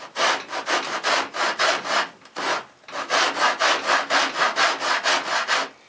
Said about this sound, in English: I want to start at the far side and gradually drop the saw down, making sure I'm on the waist side of the knife cut.